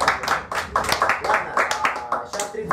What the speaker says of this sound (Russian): Аплодисменты всем.